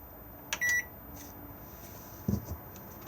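Microwave oven in an Auto-Trail Scout motorhome being operated: a short pair of electronic beeps, close and clear, followed by a couple of soft clicks from the controls in a quiet interior.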